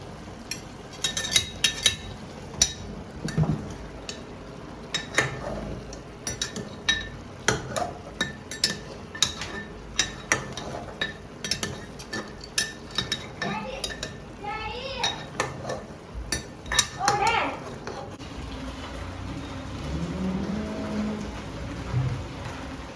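Garlic, onion and ginger going into a pan for village-style mutton curry, with sharp metallic clinks and scraping of a utensil against the pan, intermittent knocks, then a soft sizzle near the end.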